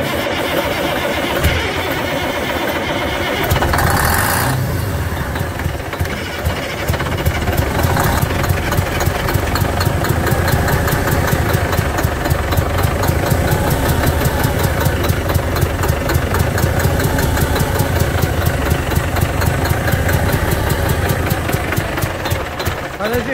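An old diesel car engine, being started after ether was sprayed in, runs with a steady rough idle and rhythmic knocking throughout, loud and close, with brief bursts of noise early on.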